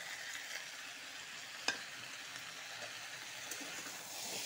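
Squash and potato fry in a pan with a paste of tomato, coriander, cumin and chili, producing a steady, soft sizzle with a faint stir or scrape partway through.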